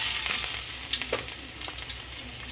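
Vegetables sautéing in a hot pan with beef, a steady close sizzle broken by scattered crackles and light stirring scrapes, no talking.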